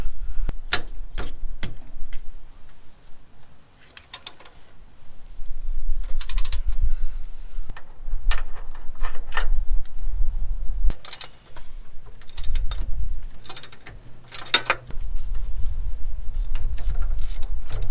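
Ratcheting wrench loosening cross member bolts under a Land Cruiser 100 series, quick rattling clicks in repeated bursts with sharp metallic knocks between, close up and fairly loud.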